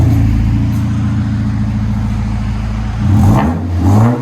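A 2017 Audi A4 turbo fitted with a Magnaflow Magnapack exhaust hums at a steady idle, then gives two short revs near the end, close and fairly loud with no talking.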